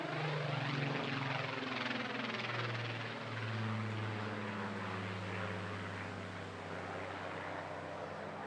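A photographic reconnaissance aircraft, delivered to the Central Photographic Reconnaissance Unit at Benson in 1945, flies at Bournemouth Air Festival with a steady, fairly distant engine drone whose pitch slowly shifts as it passes.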